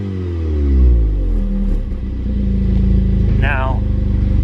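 An Audi S3 fitted with an AWE Switchpath exhaust, valves closed, revs up loudly and close with a deep rising roar that sweeps up, eases and climbs again, while a voice speaks briefly over it.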